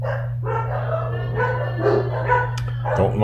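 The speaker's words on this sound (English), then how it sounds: "Don't mind my dogs barking." Dogs bark and yip in short bursts indoors, fairly close, over a steady low electrical hum; the barks come irregularly across a few seconds.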